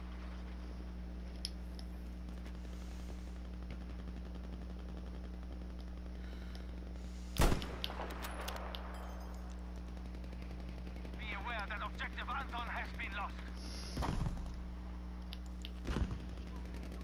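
Battlefield V match of 16 versus 16 players, with sharp isolated gunshots and bursts of gunfire plus occasional blasts, fairly faint against a low steady background hum.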